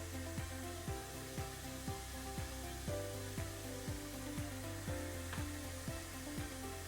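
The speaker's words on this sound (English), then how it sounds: "we're going to wait for the motor and the rotor to upright and to lock into position here" A SITEK ST 460 spin rinse dryer runs with its motor and rotor spinning, giving a steady mechanical whir with a regular pattern of soft ticks, faint and continuous.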